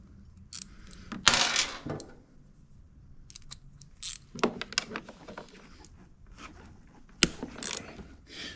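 Close metallic ratchet clicks and clanking tool sounds come from tightening the bolts on a Westinghouse iGen4500 generator, in uneven bursts with a sharp clank near the end.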